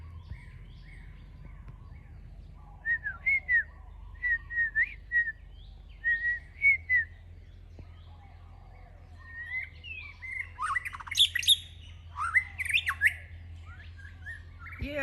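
A white-rumped shama calls in the jungle, repeated clear whistles and squawky chirps close by, growing busier and more varied toward the end over a low background hum.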